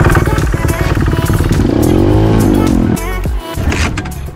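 A motocross bike on a beginner's training session fires up and runs with a loud, buzzing engine note, holds briefly, then dies away after about three seconds as it stalls, leaving a rougher idle sputter.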